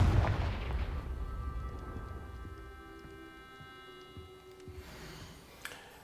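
A Confringo blasting spell going off in Hogwarts Legacy, a game explosion that bursts loudly at the start and then decays into a long, rumbling tail under a sustained tonal hum, with a small pop near the end.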